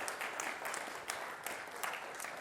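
Audience applause thanking the people who served refreshments before a lecture on AI and Christianity, a steady dense patter of many hands clapping at moderate volume from across the room.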